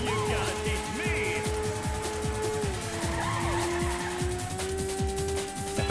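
In the racing video game Ridge Racer, a race car slides through a corner with its tires squealing over a steady, high-revving engine drone, loud and continuous for several seconds.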